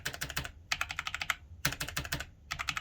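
Rapid bursts of typing on a Logitech G513 mechanical keyboard fitted with GX Brown tactile switches, producing quick, fairly soft clacks in four clusters with short pauses between them, close and alone.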